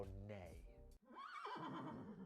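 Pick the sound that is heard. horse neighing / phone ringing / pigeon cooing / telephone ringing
horse neighing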